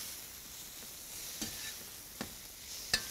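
Potatoes crisping in a pan give a soft, continuous sizzle, broken by a few sharp clicks and scrapes as they are stirred, with no voices over them.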